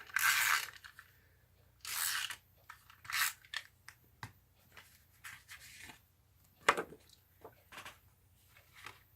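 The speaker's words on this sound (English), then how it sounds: "I'm going to just stick some tape on here real quick" Tape is pulled and pressed onto a handmade card in a few short, sharp ripping bursts, followed by quieter taps, rustles and crinkles of paper close up in a quiet room.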